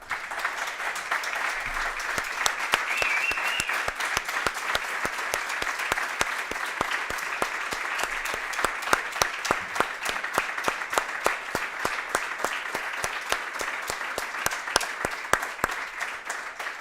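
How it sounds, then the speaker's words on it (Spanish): An audience at a Basque Third Social Sector Day ceremony gives sustained applause, a steady wash of many hands clapping at moderate volume for roughly seventeen seconds without letting up. "les dedicamos este sonoro aplauso, por favor"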